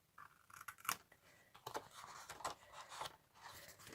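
Scissors snip into card for an Easter treat box, a few quiet, close crisp cuts in short uneven bursts with light paper rustle between them.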